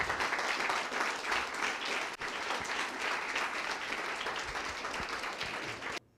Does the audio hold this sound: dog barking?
no